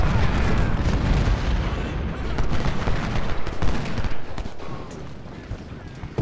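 Booming cannon and artillery volleys in the Civil War battle game Ultimate General: Civil War, a busy stream of overlapping shots and blasts at close range, some louder thumps standing out, with faint talk now and then.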